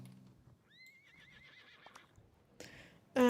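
A horse in the online game Star Stable Online gives a clear whinny, rising then trembling down over about a second, amid soft hoofbeat clip-clops and quiet game ambience, with a louder clatter at the end.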